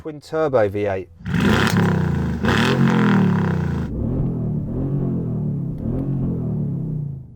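Brabus 850 with a 6-litre twin-turbo V8, lined up against a Lamborghini Urus and a Tesla Model X in a drag race, lets out a loud, deep roar for about three seconds after a short burst of talk, then people speak over a lower rumble.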